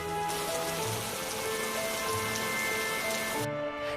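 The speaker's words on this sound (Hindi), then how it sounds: "जल्दी ही बारिश रुक जाएगी।" Steady rain pours down throughout, a dense continuous patter on surfaces with a faint tonal music bed underneath, in an animated farm story.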